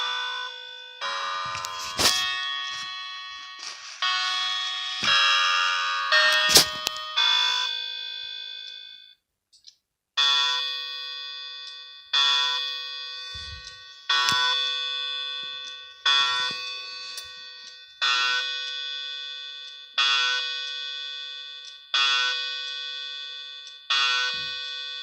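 Newly assembled Westminster chime clock sounding its tune as a test, a series of clear ringing chime strikes with long decaying tones at a steady rhythm, one brief pause midway, close and fairly loud with no talking.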